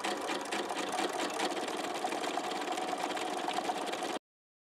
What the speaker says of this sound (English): I'm going to take a wider zigzag than that